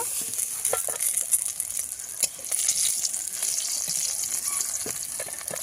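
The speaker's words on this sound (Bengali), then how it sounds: "একটু লাল লাল করে ভেজে নিয়েছি এখন তুলে নেব" Pieces of rohu fish frying in hot oil, a continuous bright sizzle with scattered crackles and pops, close and steady throughout, no voices.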